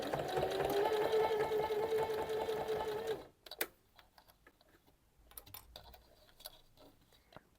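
A sewing machine runs a lingerie seam for an underwired bra in one sustained, close run of rapid stitching that stops abruptly, followed by scattered light clicks and handling noises.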